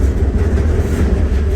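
A train rumbles past a rail gondola crossing the Ohio River, a loud, steady, close low-pitched roar with a rattling texture and no let-up.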